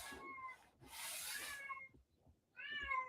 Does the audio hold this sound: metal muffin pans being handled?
no